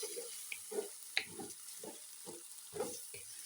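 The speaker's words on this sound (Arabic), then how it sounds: "اقلب بقى كده قوام عشان الشعريه حساسه ما بتستحملش" Rice and vermicelli being stirred in hot ghee in a pan, with soft scraping strokes at a steady rhythm over a faint continuous sizzle, close by.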